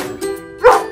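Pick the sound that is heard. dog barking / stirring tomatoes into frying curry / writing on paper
dog barking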